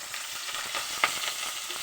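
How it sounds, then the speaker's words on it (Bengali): Prawns sizzle gently in hot mustard oil, a steady crackling hiss with a brief sharper spatter near the middle, close and moderately loud, no voices. "চিংড়ি মাছগুলো আলতো করে ভেজে নেব।"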